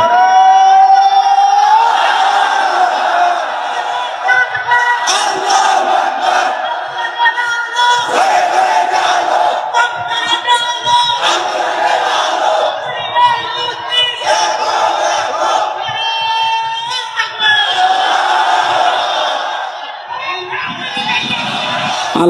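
A large crowd at an Islamic sermon gathering chants the takbir together, loud roaring unison cries that rise and fall in repeated waves for over twenty seconds.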